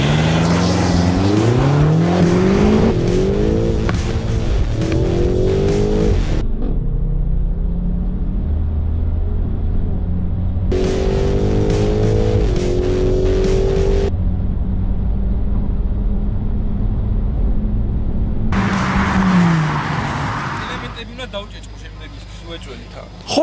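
A BMW X6M and a Tesla P85 launch side by side in a drag race, bursts of loud engine roar rising in pitch through gear changes, separated by quieter gaps, with a voice speaking over parts of it.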